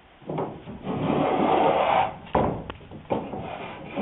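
A hand plane shaves the top edge of a wooden rail on a Thistle sailboat under repair: one long rasping stroke of about two seconds, followed by two shorter, sharper strokes, close and dry.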